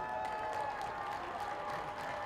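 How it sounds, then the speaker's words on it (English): Stadium crowd at Rhodes Stadium applauding high school seniors during halftime of a Morton Ranch vs Seven Lakes football game, a steady, fairly distant wash of clapping and crowd noise throughout. "Let's give these seniors a huge round of applause"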